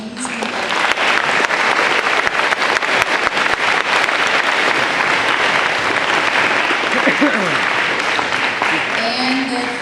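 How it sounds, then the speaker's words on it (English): Loud, sustained applause from a large crowd at a school Veterans Day ceremony, steady throughout, with a few voices faintly audible underneath. "How about another round of applause for that amazing"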